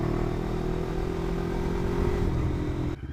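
An LXR380 motorcycle with its exhaust baffle fitted, ridden at a steady drone with a fluttering engine note close to the rider, plus a wind rush, until the sound drops off sharply near the end.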